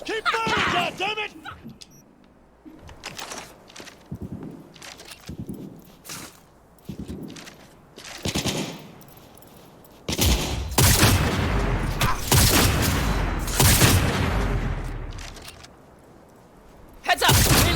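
Gunfire in a Cyberpunk 2077 firefight on Xbox Series X: scattered shots and short bursts early on, then a dense, loud barrage of sustained fire from about ten seconds, with voices talking between the volleys.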